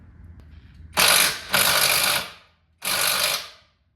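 A ratchet works on 17 mm bolts of a seized BMW 328i xDrive engine outdoors: three loud, close, rapid rattling bursts, the first two nearly back to back, then a short pause before the third.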